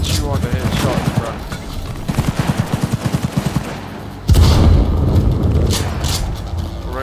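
Sniper rifle fire in Cyberpunk 2077 rings out as a loud, close burst of rapid repeated shots, then a heavy boom and rumble, with a player's voice over the gunfire.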